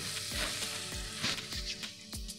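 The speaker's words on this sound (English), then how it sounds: "Now it's nice and hot and they will start sizzling." Steady sizzling of plantain slices frying in a hot pan for tostones, with a few soft bumps and taps from the pan between crackles.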